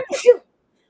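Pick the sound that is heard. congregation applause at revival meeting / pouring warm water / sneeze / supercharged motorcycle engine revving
sneeze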